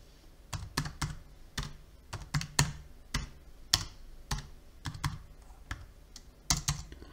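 Someone types an IP address on a MacBook keyboard: bursts of crisp key clicks in irregular clusters, close and clear, with short pauses between groups and no talking.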